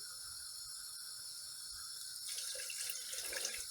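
Water is poured into a pan of cooking leeks with potatoes and carrots. A soft, low background gives way partway through to a brighter splashing pour that continues to the end, with no talk.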